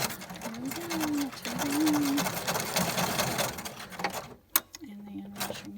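A sewing machine stitching along a ruffled paper strip for an embellishment, a mechanical whirring and clicking run of stitches, with a faint voice speaking underneath and brief pauses near the end.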